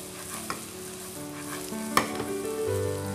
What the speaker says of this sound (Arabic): حطينا الكزبرة ونضيف فوق الكزبرة القلقاس اللي قليناه بالزيت